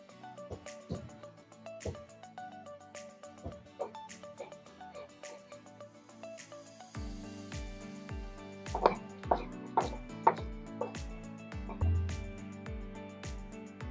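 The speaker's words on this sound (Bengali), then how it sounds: "এইবার আমি আদা বেটে নেব।" Ginger is ground into a paste by hand in a home kitchen, with a series of sharp knocks and scraping strikes, quiet at first and then heavier, more rhythmic thuds in the second half.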